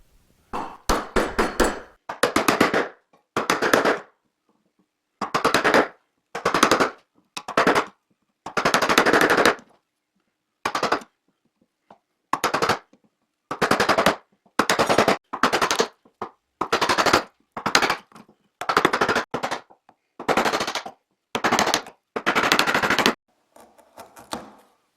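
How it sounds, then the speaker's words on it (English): A freshly sharpened chisel cuts into wood while a wooden mallet is made, with bursts of rapid sharp chipping and scraping strokes separated by short silences, close and loud with no talking. "using my freshly sharpened chisel, try to remove as much as I can with the chisel angled backwards like this"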